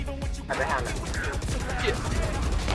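Rapid gunfire bursts from the shooter game Valorant, crackling loudly in quick succession with a commentator talking over the shots.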